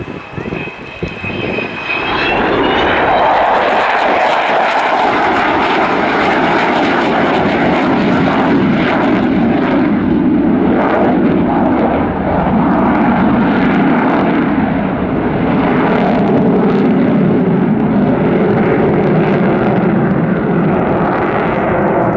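Avro Vulcan XH558 jet bomber flying at the RIAT 2015 airshow, a loud continuous roar of jet engines that swells within the first few seconds and holds steady throughout.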